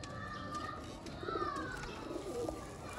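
Pigeons coo softly nearby, with a few short low throaty calls over a faint background hum.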